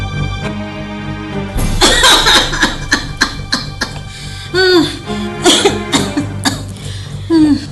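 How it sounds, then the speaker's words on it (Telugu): Repeated coughing bursts in a Telugu stage drama, loud and close, some sharp and some drawn out, with harsh throat-clearing rasps between them over a faint musical hum. "ఎన్నాళ్ళ నుండి ఈ దగ్గు వస్తుందమ్మా?"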